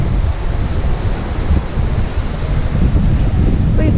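Wind gusts and ocean waves wash around a sailing boat on open sea with following waves. A steady, loud, rumbling rush with no voices.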